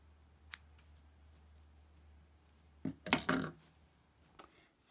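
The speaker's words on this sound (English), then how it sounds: "And then just simply cut your tail to length." Scissors trimming a needle-felted wool tail to length, a few crisp close snips clustered together after a single earlier snip, in an otherwise quiet room.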